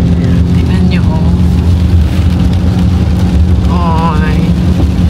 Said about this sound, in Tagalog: naririnig mo yung ulan